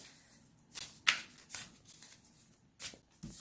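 Chi & Prana Divine Light and Love oracle cards are shuffled by hand in quiet, crisp bursts of riffling and snapping, about five distinct flurries separated by short soft pauses, with no talking.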